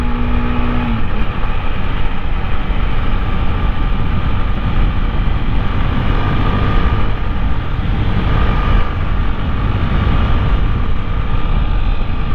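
A 2008 Honda CB 250 Twister motorcycle climbs a hill, its engine giving a loud, continuous droning roar close to the mic, steady throughout with no talk.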